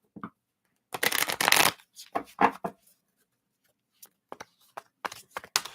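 Tarot cards are shuffled close up in quick riffling bursts, one long flurry followed by several short separate snaps and flutters.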